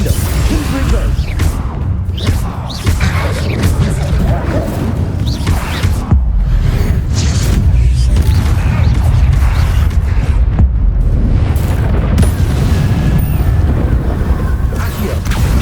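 Combat spells cast during a Hogwarts Legacy battle: loud, dense layers of magical blasts, booms, whooshes and crashes, rapid and continuous, with a voice shouting spell names over the fray.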